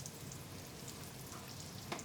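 Steady, close sizzling of eggplant frying in oil, a continuous hiss with faint crackles and a small pop near the end.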